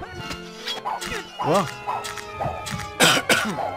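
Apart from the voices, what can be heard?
coughing in the video game Ultima 9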